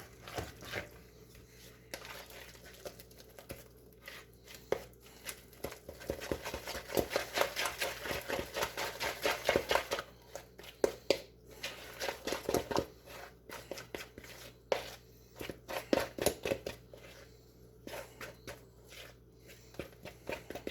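Corn fritter batter mixed with margarine or butter is stirred in a bowl, giving irregular soft scraping and tapping strokes that build in bursts, close and fairly quiet.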